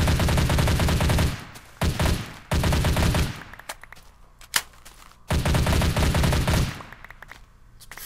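A modded gun in Minecraft fires in three long sustained automatic bursts, loud and close, separated by brief pauses and a single sharp shot in between.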